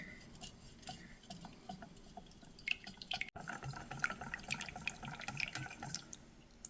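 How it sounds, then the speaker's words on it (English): Sweetened condensed milk, evaporated milk and the rest of a tres leches soaking mixture being whisked in a bowl, giving a steady wet stirring and clinking sound with small tapping ticks, close and moderately quiet, with no one talking. "Just whisk this all together."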